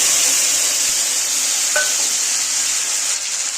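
Pastes of onion, dried red chili and cumin sizzle and fry steadily in a hot pan for an egg and potato bora dish, a continuous close hiss with a brief clink of utensils partway through.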